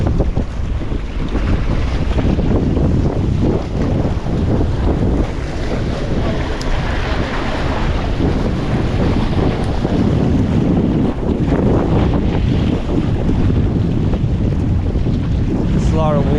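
Strong wind buffets the microphone at a jetty during sheepshead fishing, a loud continuous roar with waves washing underneath and brief speech mixed in.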